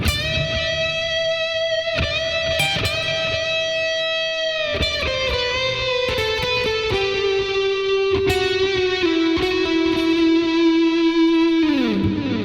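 A sustained electric guitar line in a lead tone, with long echoing delay repeats and a washy reverb tail, notes gliding downward and ringing out over several seconds, no talking.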